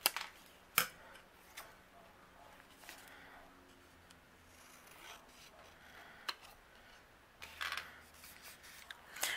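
Quiet scissors snipping around a flower design on a paper card piece in short, irregular cuts, with soft rustling and scraping between snips; close and fairly faint.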